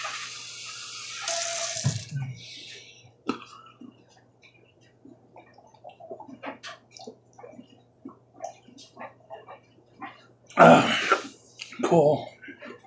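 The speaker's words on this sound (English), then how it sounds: "I'm getting a drink of water." A kitchen tap runs to fill a drinking glass in two short bursts, one early and one near the end, with throat clearing, a cough and quiet movement in between.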